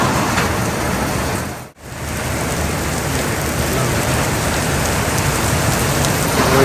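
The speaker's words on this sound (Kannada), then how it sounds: "ಇನ್ನೂ ಜೋರಾಗ್ತಿದೆ ಮಳೆ" Heavy rain mixed with hailstones pounds down onto a road and green grass: a loud, dense, steady hiss of impacts with a brief dip partway through, and no voices.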